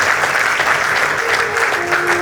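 A large crowd at a devotional bhajan evening gives loud, dense applause that holds steady throughout, while a faint sustained musical tone comes through underneath.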